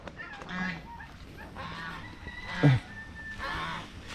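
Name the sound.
geese honking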